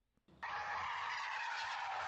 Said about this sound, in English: suddenly you hear tires screeching like crazy